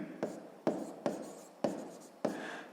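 A pen writes on paper during a sixth-grade maths lesson, making five short, distinct scratching strokes at a steady pace, quiet and close.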